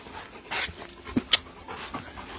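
Pet dogs pant softly and quickly while playing close by, with a couple of small sharp sounds and faint movement but no voices.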